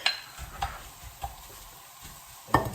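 Cooked rice is stirred and broken up into a sizzling turkey mince stir fry, with a soft continuous fry hiss and several distinct scraping knocks of a utensil against the pan, close and fairly quiet.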